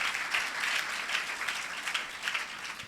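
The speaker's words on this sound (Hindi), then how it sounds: "एक दफा जोर से ताली बजाएं इस बहन के लिए।" Church congregation applauding a worship singer, a dense, continuous patter of many hands clapping at moderate distance, steady for the whole stretch with no talk over it.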